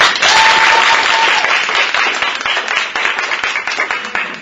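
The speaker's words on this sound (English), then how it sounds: "So let's give them a round of applause" A round of applause from an audience at a program event, dense clapping that starts loud and gradually thins and fades.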